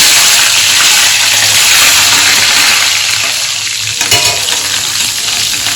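Onion fries in hot oil with a cinnamon piece, two cloves and black peppercorns, giving a loud, dense, continuous sizzle that eases slightly partway through, with no voices.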